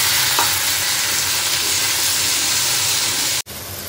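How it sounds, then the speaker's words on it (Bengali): Okra frying in a pan at home gives a steady, loud sizzling hiss with light stirring scrapes, continuous until it cuts off abruptly near the end. "এদিকে ঢেঁড়স ভাজাটাও চাপিয়ে দেবো।"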